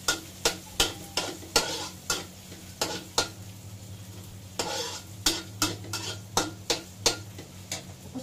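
Chopped onion sizzles in a hot pan while a utensil scrapes and taps against the metal in a steady, close rhythm of repeated strokes, part of making a baked pasta sauce; no talking.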